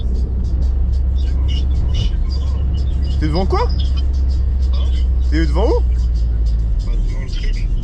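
Steady low rumble from the cabin of a moving car on the road, continuous under close conversation as people talk throughout.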